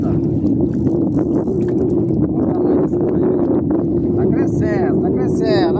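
Strong wind buffets the microphone while fishing from a small boat, a loud, constant roar with a low rumble, and excited voices talk over it throughout.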